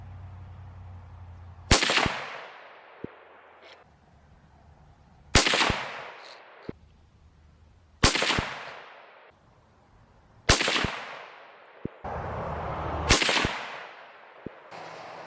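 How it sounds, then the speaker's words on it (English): Five sharp, loud Ruger American .308 rifle shots fired at a 100-yard range, evenly spaced a few seconds apart, each a crisp crack with a fading echo tail, plus small faint clicks between them. "Let me show you that footage of my 308 here, shooting same hole groups at 100 yards real quick."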